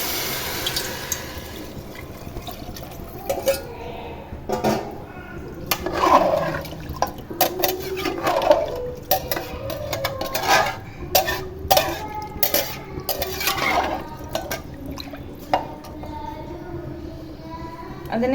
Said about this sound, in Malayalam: അപ്പോൾ നമുക്ക് അതിലേക്ക് അളന്ന് വെള്ളം ഒഴിക്കാം.